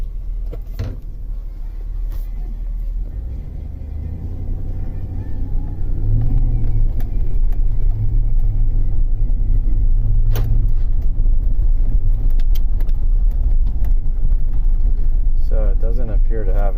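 2004 Chevrolet Suburban with the 6.0L V8 cranking back to life, then settling into a steady low idle rumble that grows louder and holds, with someone talking over it.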